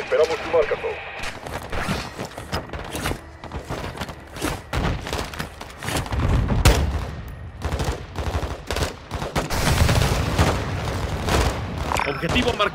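Rapid bursts of gunfire and booming explosions from Modern Warfare 2, dense and continuous, with voices speaking Spanish over the combat.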